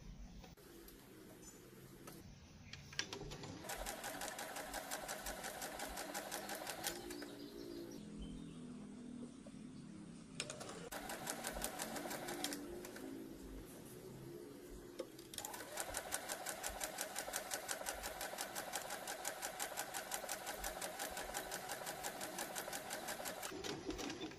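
Sewing machine stitching a cloth face mask, running in long continuous bursts of rapid needle clatter separated by short pauses, loud and close throughout.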